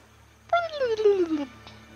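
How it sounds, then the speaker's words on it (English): A single warbling, descending water flea cry from the video game Grounded, high and nasal, sliding downward over about a second against near silence. "That's what a water flea sounds like, for some reason."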